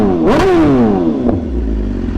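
A BMW M1000RR motorcycle engine blips sharply, climbing quickly in pitch and then winding back down toward idle, loud and close, with a second smaller throttle blip just after.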